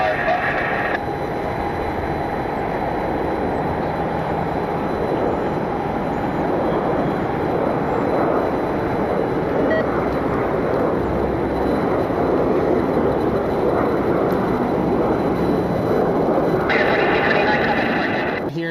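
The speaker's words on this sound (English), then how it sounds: "the United Express ERJ 145 commute air flight heading to Dulles" A United Express ERJ 145 regional jet heading to Dulles gives a steady, broad roar that holds even and loud throughout, with a voice talking over it.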